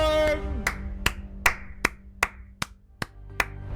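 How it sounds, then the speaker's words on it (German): A few people clapping hands to welcome a guest, about eight sharp separate claps at a slow uneven pace, close and crisp, following a brief bit of sound at the start. "Klatschen!"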